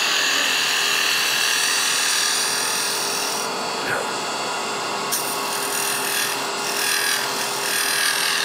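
A woodturning gouge scrubs back and forth inside a hollow wooden sphere spinning on a lathe, giving a continuous close, loud rasping hiss with slight rhythmic swells and no talking.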